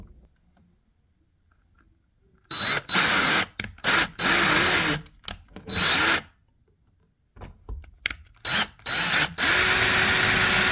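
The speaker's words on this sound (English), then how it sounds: "I then make sure I pre-drill any holes before placing any screws or wall anchors." A power drill whirs in several loud bursts of varying length, stopping and starting with short pauses between, close by and with no talking.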